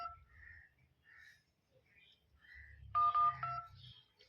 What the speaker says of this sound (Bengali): এমার্জেন্সিতে ডায়াল করব।